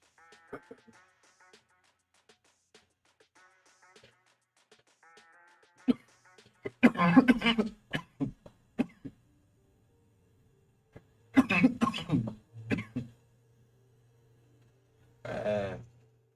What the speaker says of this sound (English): That's what I need to get rid of too, this cough.